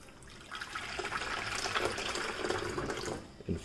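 Water rushes steadily into a coffee maker's reservoir, close and continuous, swelling slightly toward the end, with no voices.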